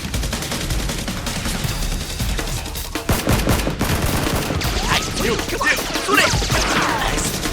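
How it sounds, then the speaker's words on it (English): Toy Nerf guns fire during a staged police SWAT versus criminals Nerf war, with rapid bursts of shots, clacks and impacts over layered action effects, loud and busy throughout. "shoots at the criminals, and they fire back"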